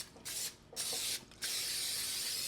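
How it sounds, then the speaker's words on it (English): A cooking spray can hisses in three short bursts, the last held longest, close and steady with brief pauses between. "now I'm just gonna give it a good spray"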